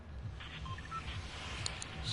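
Short telephone dialing tones beep one after another, faint beneath a steady low rumble of background noise.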